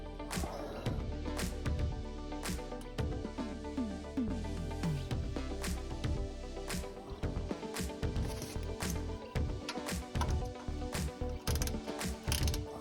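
A ratchet wrench clicks steadily and loudly while tightening bolts during an oil change on a 1974 VW Super Beetle, in rapid repeated bursts of pawl clicks that continue throughout.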